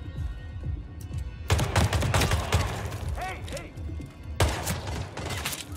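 Video game gunfire rattles through a nightclub shootout in rapid, dense bursts of shots, loud and close, with short pauses between volleys.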